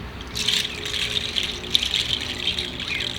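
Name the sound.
Kewei indigenous instrument making a water-like sound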